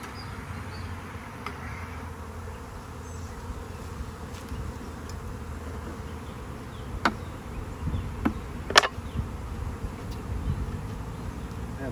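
Steady drone of a honeybee swarm clustered under a hive's bottom board, a continuous close buzz filling the scene, with a few sharp knocks and taps from the beekeeper's handling late on.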